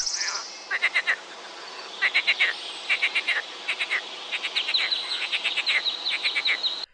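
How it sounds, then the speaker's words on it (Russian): Frogs croak in rapid, irregular bursts of short pulsed calls, several overlapping, with a faint high insect-like trill running underneath throughout. "Лягушки являются амфибиями, которые обитают почти во всех уголках нашей планеты."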